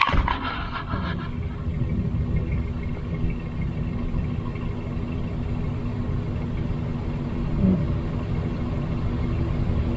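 A vehicle pulling off, its engine rumbling low and steady close by with a brief clatter at the start, holding a continuous idle-like drone throughout.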